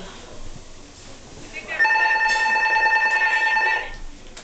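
An electronic telephone ring in Call of Duty 2 trills steadily for about two seconds, clear and prominent over quieter background game noise.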